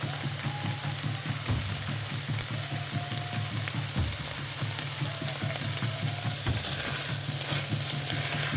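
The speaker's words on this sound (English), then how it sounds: "Stir it in some more." Quinoa and zucchini sizzle steadily in a hot pan while a utensil stirs, with rhythmic scraping taps over a constant frying hiss, close and even, no speech.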